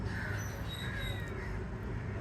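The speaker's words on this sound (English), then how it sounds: "there's often these crows that hang out here" Black crows with gray heads caw in India, several harsh calls overlapping at moderate distance over steady outdoor background noise.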